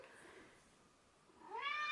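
A single soft, rising cat meow comes at the end after a quiet, hushed stretch of room noise.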